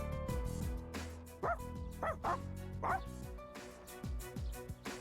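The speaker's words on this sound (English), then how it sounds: "Koromaru is trying to reason with the stray dog." A stray dog in the video game Persona 3 Reload gives a run of sharp barks and yips, several close together over a soft background score.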